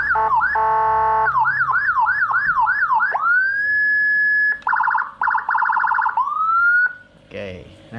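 A Whelen HF 60-watt siren module for a motorbike runs loud through several tones: a rapid yelping wail, a rising whoop, a fast warbling hi-lo pattern, then a short burst of noisy horn. The tones are close and continuous.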